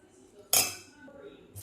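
A metal spoon strikes the side of a bowl with one sharp clink while spinach dosa batter is stirred, followed by faint scraping and a softer second tap, all close and quiet.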